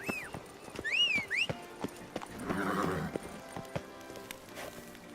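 Roach, the horse in The Witcher video game, clops along with steady hoofbeats and lets out a clear whinny near the start, then makes soft snorting sounds, all close by.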